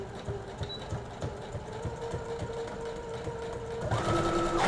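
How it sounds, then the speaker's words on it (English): A sewing machine back stitches while sewing a dress, running in a steady, close mechanical chatter of rapid needle strokes that grows louder and busier near the end. "And then I'm gonna back stitch also."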